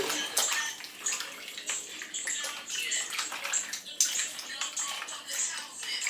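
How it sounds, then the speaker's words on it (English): Meat is washed under running water, a steady close splashing stream with sloshing and the occasional knock of handling, continuing throughout with a voice speaking briefly. "Let me just wash my meat."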